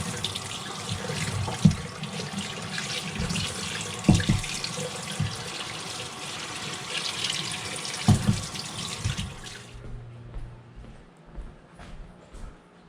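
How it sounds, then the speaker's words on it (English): An M998A1 Humvee fuel pump, after soaking, is rinsed under a steady stream of running water from a tap for about ten seconds, with a few knocks and clunks, before the water shuts off and only quiet handling remains. "I'm gonna wash it off and see how it looks."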